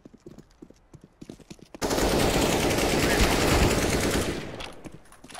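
A sustained burst of loud automatic gunfire in a Counter-Strike: Global Offensive round lasts a few seconds after some quieter footsteps and clicks, then trails off into softer shots and movement noise.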